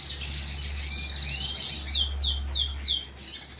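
A caged pío vaca (pied wheatear type songbird) kept for singing competitions sings alone, a run of high chirps ending in four quick descending whistled slurs over a low steady hum.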